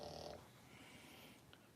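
Dog snoring softly, a quiet nasal snort at the start trailing into low, faint breathing rumble, heard alone.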